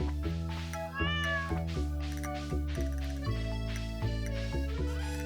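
A pet cat in the Stardew Valley video game meows in short, clear, repeated calls over the game's steady, tuneful background music.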